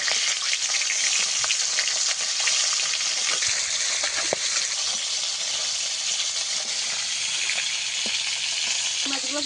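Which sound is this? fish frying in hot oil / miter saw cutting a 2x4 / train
fish frying in hot oil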